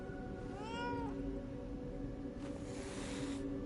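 A cat in the video game Lies of P meows in a rising, drawn-out call near the start, set over a steady ambient hum with a soft wash of water-like noise later on.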